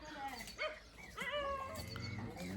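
A dog yips and barks in short bursts amid lively background chatter and noise, fairly close.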